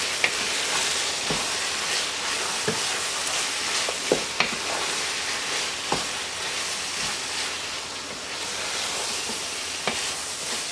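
Minced meat keema fries on a high flame, a steady close hiss of sizzling oil broken by sharp taps and scrapes of a spoon stirring the pan every second or two, with no talking.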